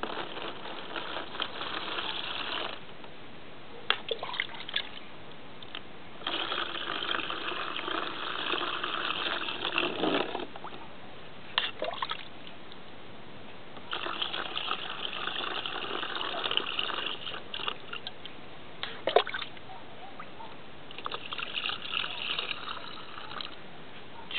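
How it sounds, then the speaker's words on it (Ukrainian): Algae liquid poured into a jar as an electrolyte, heard as several gushing pours of a few seconds each, separated by short pauses, close and steady. "Я сейчас заливаю ці водорості як електроліт. Залью сюди в банку."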